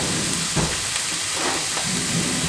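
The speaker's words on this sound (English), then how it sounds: "So we're gonna add in our ground beef and our thinly sliced onions." Ground beef and thinly sliced onions sizzle in a pan for a beef French onion casserole, a steady broadband hiss with a few louder surges, close and continuous, with no talk over it.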